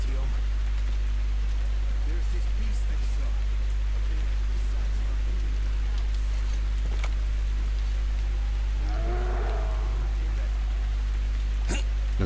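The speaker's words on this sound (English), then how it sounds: "it's starting to rain" Rain falls in the Metro Exodus video game as a steady soft hiss of drops on surfaces, with a low constant hum underneath and a few brief louder sounds.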